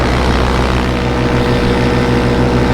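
An Atom paramotor engine runs close to maximum RPM, a loud, steady propeller drone with a constant buzzing pitch, heard up close and without talk.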